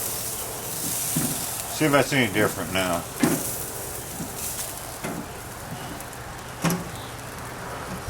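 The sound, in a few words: ribs sizzling on grill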